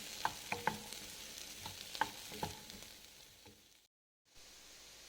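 Riced cauliflower frying in a pan and being stirred, with a soft sizzle and a few sharp clicks of a spoon against the pan before a brief silence, no voices.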